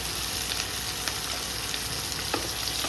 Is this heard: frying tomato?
yes